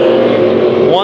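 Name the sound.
race cars on a speedway track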